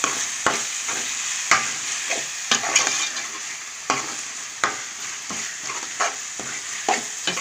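Masala of salt, chilli powder and turmeric frying in a pan for fish curry, with a close steady sizzle punctuated by repeated sharp scrapes and knocks of a spoon stirring it.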